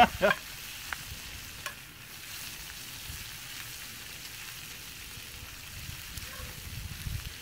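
Hominy and bacon fry in a pan over an outdoor fire and sizzle in a soft, steady hiss, with a few scrapes of stirring near the start.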